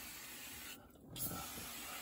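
A short hiss from a spray bottle during cleaning of a dirty car, a single burst lasting under half a second, close and fairly soft, with no talking.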